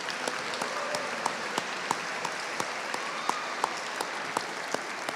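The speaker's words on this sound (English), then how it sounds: "Please give them a round of applause as well." At a State House rally, an audience gives a steady round of applause, a dense continuous patter with a few sharper individual claps standing out near the microphone.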